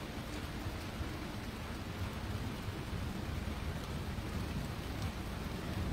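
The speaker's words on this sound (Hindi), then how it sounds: "कितनी तेज़ अभी भी बारिश यहाँ पर हो रही" Heavy rain pours steadily outdoors during a tornado warning, a dense, unbroken hiss with a deep low rumble beneath it, loud and constant throughout with no voices.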